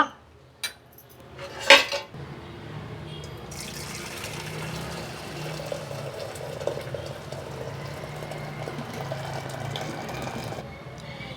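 A metal pot clanks, then cooking water from boiled field beans pours out in a steady, splashing stream for several seconds before stopping abruptly.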